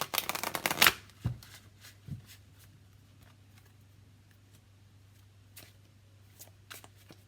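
Lover's Path Tarot cards are riffled in one brisk, close shuffle lasting about a second. A few light taps and clicks follow against near silence.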